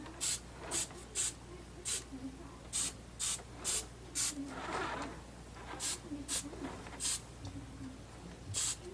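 Short, sharp spray bursts hiss over a diorama as it is detailed with pigments, about a dozen quick blasts in an uneven rhythm over a faint background hum.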